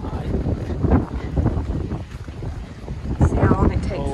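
Gusty wind buffeting the microphone during a walk from a hotel in Costa Teguise, Lanzarote, a loud rumbling roar throughout with people talking over it.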